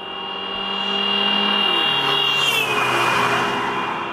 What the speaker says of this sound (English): When the car passes us, we hear a distinct drop in pitch